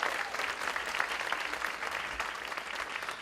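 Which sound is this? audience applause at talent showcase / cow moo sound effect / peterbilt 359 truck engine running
audience applause at talent showcase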